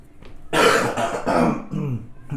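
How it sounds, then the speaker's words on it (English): A close, rough bout of coughing and throat clearing, several harsh bursts running together with brief dips between them. "I apologize in advance for all the coughing, throat clearing."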